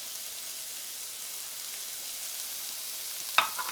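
Celery and carrots sauté in a pot with a soft, steady sizzle throughout, followed by one brief utensil clink near the end.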